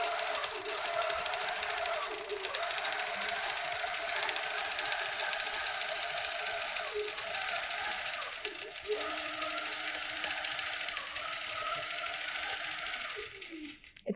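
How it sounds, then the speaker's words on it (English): A QCT6 Plus quilting machine stitches a quilt block with steady, continuous mechanical whirring and rapid needle rhythm, close and even throughout, with a brief pause near the end. "you can see it's stitching right on those marked points that we made earlier"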